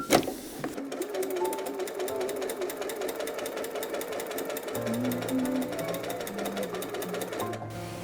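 A sewing machine runs steadily while stitching skirt pieces together, a fast, even mechanical hum and needle chatter that continues for the whole stretch, close and fairly loud, with a slight shift in pitch partway through.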